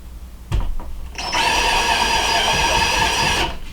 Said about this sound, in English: bring my drill around